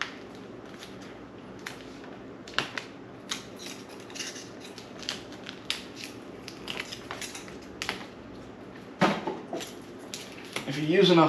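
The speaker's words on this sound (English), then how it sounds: "If you use enough hot glue, it's going to be stiff to break apart" A glass-pane mold box held together with hot glue is pried and snapped apart, giving sharp irregular cracks and clatters with scraping in between, and a louder burst of breaking near the end while someone talks.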